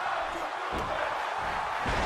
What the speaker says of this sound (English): The crowd chanting, how you doing?